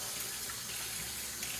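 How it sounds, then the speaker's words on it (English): Tap water runs steadily into a kitchen sink as food is rinsed under it, a constant close splashing hiss with no voices. "So I am going to rinse this off"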